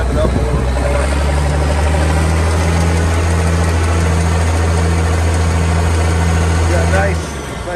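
A steady, loud diesel engine of a 1982 International 5088 tractor rumbles at a high idle with a low droning hum throughout, then drops off abruptly near the end.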